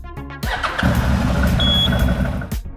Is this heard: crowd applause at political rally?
no